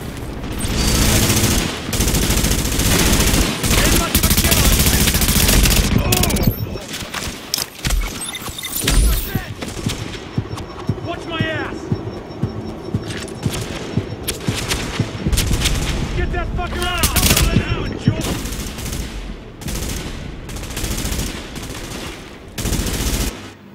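Gunfire in The Division game: sustained loud bursts of rapid automatic fire and shots with booming impacts, dense and continuous throughout, with brief spoken alerts layered in among the firing.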